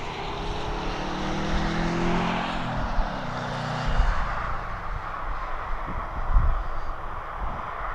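At an airport, a small aircraft's engine drones steadily from a moderate distance, its pitch shifting slightly as it moves along the runway.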